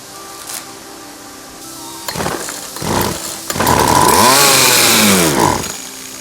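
A McCulloch Mac Cat 435 chainsaw, an American-made saw, fires up with a few sharp bursts, then revs hard and loud up close, its pitch climbing and falling while it runs on its own.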